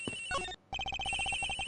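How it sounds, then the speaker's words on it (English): A cell phone ringing in the Ace Attorney Investigations video game, a bright electronic ringtone melody with rapid repeated tones, briefly cutting out before resuming in a quick pulsing pattern, clear and close. "The ringing's coming from somewhere in here, sir."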